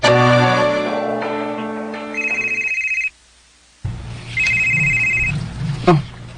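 A cellphone rings with a loud, repeated electronic ringtone that breaks off briefly and then resumes, with faint background sound between the rings.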